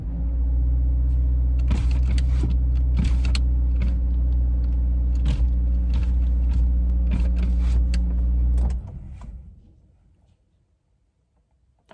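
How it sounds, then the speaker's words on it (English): Loud, steady low rumble inside a moving car, engine and road noise droning for about nine seconds before abruptly dropping away to near silence, with a few faint knocks and rattles. "Damn, now my car is loud."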